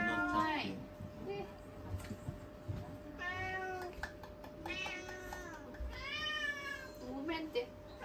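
Several cats meow loudly and excitedly in a kitchen, wanting the tuna they take for their food, in a string of rising, drawn-out cries close by, with a person talking among them.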